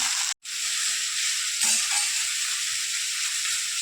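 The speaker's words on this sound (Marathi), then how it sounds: "आणि बटाटे पण टाकू आणि आता तांदळाला तेलामध्ये परतवून घेऊया" Rice and potatoes sauté in hot oil for a masala pulao, giving a steady, loud sizzle that runs the whole time apart from a brief cut near the start, with a slight stir midway and no talking.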